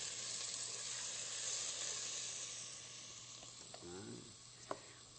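Food sizzles steadily in a hot pan, a constant frying hiss with a few soft scraping stirs and a small clink near the end.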